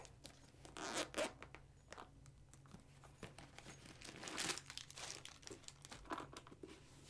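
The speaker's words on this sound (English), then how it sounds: "undo the zipper" Quiet zipper pulling with rustling and crinkling of soft faux suede, a few bursts of sliding teeth over several seconds, close up, as lace detail boots are unzipped.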